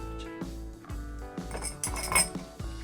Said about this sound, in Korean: 얼음은 버려주도록 할게요